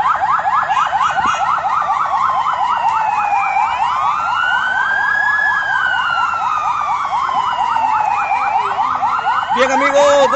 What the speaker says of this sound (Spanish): Ya están haciendo sonar las sirenas